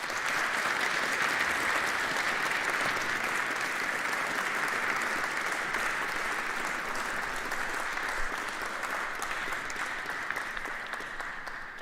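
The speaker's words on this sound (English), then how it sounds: "So a big round of applause, please." A lecture audience gathered at Bolton Priory claps in sustained, dense applause that holds steady throughout and tapers slightly at the end, with no talking over it.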